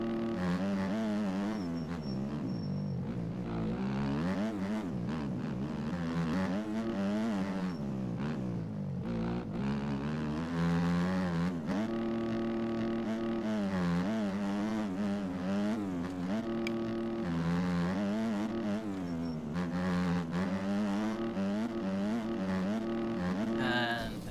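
A motocross bike engine in the racing game MX Bikes, revving and shifting continuously through a lap with rising and falling pitch as the rider accelerates and brakes, loud and steady throughout with no talk.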